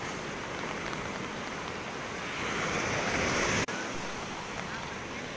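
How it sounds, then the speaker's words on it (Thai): Heavy surf from Tropical Storm Pabuk pounds a beach in a steady, loud roar with gusty wind buffeting the microphone, swelling toward the middle before a brief dropout, then continuing unbroken. "ตอนนี้ผมยืนอยู่บนชายหาดคลื่นซัดถึงเลยครับ"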